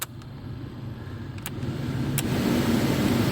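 Toyota Tacoma cabin A/C blower fan running on its low setting, a steady airy whoosh that swells gradually louder over a few seconds, with faint clicks early on and no voices.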